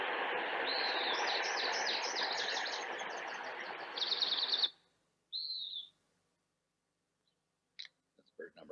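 A separated bird song from a sound separation demo: a rapid series of bright, high chirps and trills over a few seconds, then a short isolated call and scattered faint clicks in near silence.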